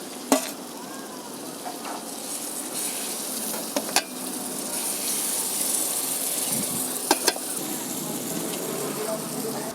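Fish pieces fry in a masala in a pan, giving a steady sizzle with a few sharp clicks and scrapes from stirring, close by and moderately loud.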